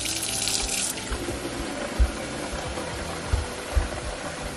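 Room-temperature tap water runs into a container to mix a houseplant spray for treating thrips, a steady hiss of flow with a brief brighter splash at the start and a few low knocks and thuds later.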